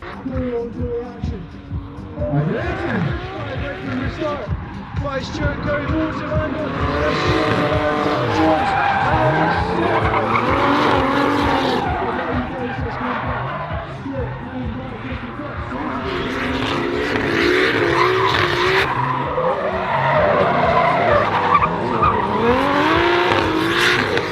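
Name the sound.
car skidding with tire squeal during a drift chase run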